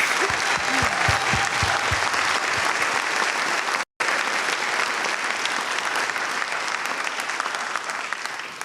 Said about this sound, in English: If you would give them a nice round of applause.